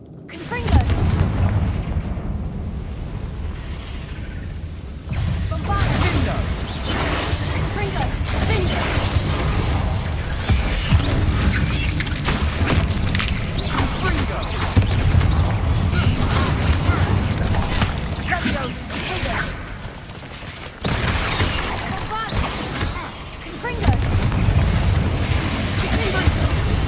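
Bombard spell explosions in Hogwarts Legacy, a dense, continuous roar of heavy booms and crashing impacts that runs the whole stretch with little letup, mixed with game action noise.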